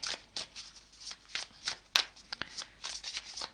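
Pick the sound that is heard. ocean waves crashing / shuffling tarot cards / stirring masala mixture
shuffling tarot cards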